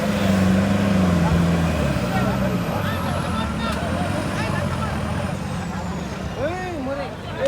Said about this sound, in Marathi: चार गाडी आली.